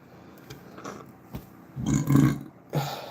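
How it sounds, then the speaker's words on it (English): A few short throaty bursts build to a loud, drawn-out belch near the end, followed by one more brief burp, close to the mic. "Sorry, I had to belch."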